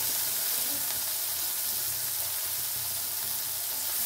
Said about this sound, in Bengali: তেল অলরেডি গরম হয়ে গেছে। আমি এই যে নুন হলুদ দিয়ে ভিজিয়ে রেখেছিলাম সেই বেগুনটা এর মধ্যে দিয়ে দিলাম।